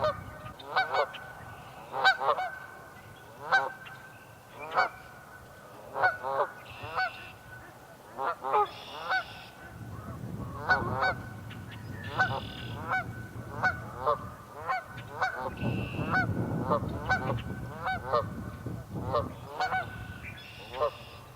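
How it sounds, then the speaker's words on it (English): Wild ducks or geese honking repeatedly across a lake, a flock calling in bursts at a distance with overlapping cries, growing busier toward the end with low rumbling in the background. "I hear a bunch of ducks on the other side of the lake."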